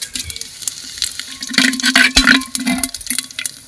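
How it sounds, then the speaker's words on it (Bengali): Whole spices — bay leaf, cumin, cloves, cardamom and cinnamon — tempered in hot oil in a pot over a traditional clay stove, crackling and sizzling in close bursts that grow busier midway. "ফোড়নে আমি দিয়ে নিচ্ছি এখানে তেজপাতা জিরে লবঙ্গ এলাচ দারচিনি"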